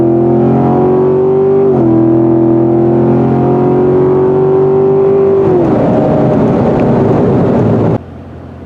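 The V8 exhaust of a 2019 Chevrolet Corvette Convertible cruising a backcountry road gives a loud, steady, deep burble. Its pitch holds, then drops and roughens as the throttle changes, and it cuts off sharply near the end.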